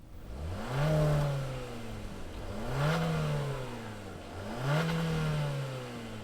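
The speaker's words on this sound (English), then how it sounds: "Let's fire up this Limited Kona and see it roll out of here." 2024 Hyundai Kona Limited with its combustion engine running, revved three times in slow succession, each rev rising and falling smoothly at moderate volume with no talk.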